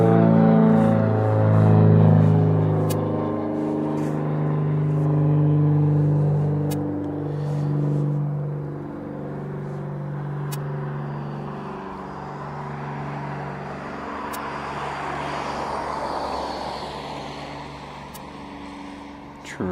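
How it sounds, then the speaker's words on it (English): A West Atlantic ATP turboprop approaching East Midlands Airport, a loud droning engine hum with a strong steady tone that fades slowly as it passes. Clicks and a rising hiss come through toward the end. "somewhere over there we've got an aircraft coming in"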